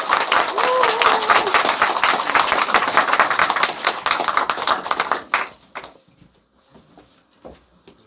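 Vigorous applause from an audience at a weekly academy session, dense and loud for about five seconds before cutting off abruptly, leaving a few scattered claps and quiet room noise.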